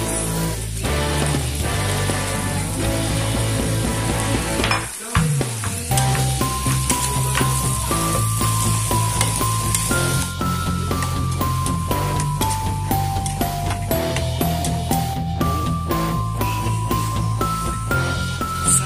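Hot dogs fry in a pan for a birthday spaghetti meal, a loud, constant sizzle and spatter that runs the whole time, briefly broken by a clunk, with a melodic tone line above it.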